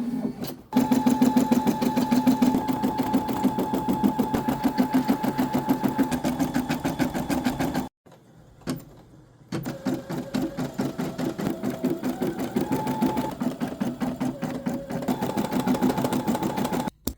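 A sewing-style embroidery machine stitches a bird design with a fast, steady mechanical chatter and hum. The sound is loud and close and runs almost continuously, with one brief pause midway before stitching resumes.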